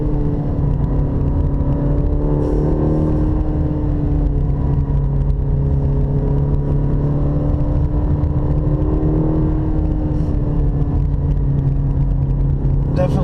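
A Cadillac CT4 pulls hard out of corners on a winding mountain road, a steady loud engine drone that rises and falls in pitch, heard from inside the cabin throughout.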